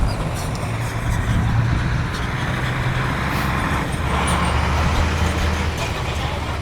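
A truck bounces through rough farm terrain with a loud, steady low engine rumble and road noise. The rattle rises in places, and a voice talks faintly underneath.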